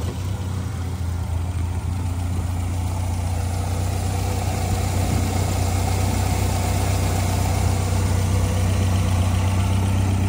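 Warmed-up 1962 Morgan Plus 4 engine idling with a steady, even low rumble and constant vibration, close and unbroken for the whole stretch, no talking.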